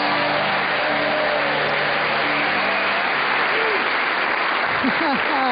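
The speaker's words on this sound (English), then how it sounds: "It's lovely, a lovely round of applause." Loud, steady applause from a live audience greeting a stand-up comedian on stage, a dense continuous wash of clapping with a few voices.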